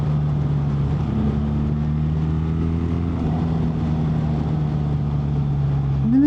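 BMW R1300GS motorcycle riding on a road, a steady loud engine drone from the rider's position with shifting tonal harmonics as revs change and a slight rise at the end, no talking.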